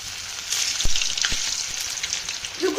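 Food for a homemade McDonald's-style burger fries in hot butter in a pan, making a bright, crackling sizzle with a couple of sharp taps near the start and fluctuating spits throughout.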